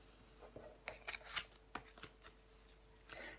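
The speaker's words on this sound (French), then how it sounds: "Je prends encore une carte pour vous, les scorpions." Soft, close handling of a tarot deck: scattered crisp card slides and flicks as a card is drawn, faint against a quiet room.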